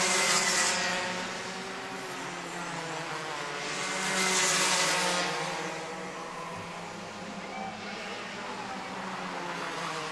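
Mini Max racing karts at a championship race pass by on track, their engines swelling into two loud drone passes before fading into a steady buzzing whine from the pack, with no talk heard.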